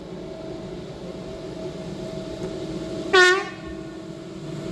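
A passing train in Guntramsdorf-Thallern sounds a single short, loud horn blast about three seconds in, standing out over the steady rumble of the train rolling by.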